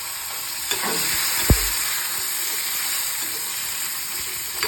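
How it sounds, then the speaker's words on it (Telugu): Drumstick pieces fry in a hot tempering of mustard seeds, urad dal, cumin and dried red chillies, giving a constant close sizzle with one dull thump as something lands in the pan; no voices. "ఈ మునక్కాడల ముక్కలు వేసుకుందాము"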